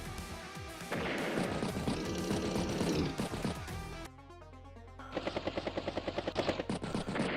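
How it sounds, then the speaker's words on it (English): Battlecopter and artillery attacks from Advance Wars, with bursts of rapid machine-gun fire and heavy impacts, a short break near the midpoint, then a steady run of pulsing shots toward the end. "Battlecopter hits the recon there, hits infantry. Artillery shelling the tanks."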